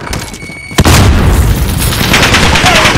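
A grenade blast in Call of Duty: Modern Warfare lands with a sudden heavy boom, followed by a loud rumbling tail mixed with bursts of gunfire, after brief radio-style voice chatter.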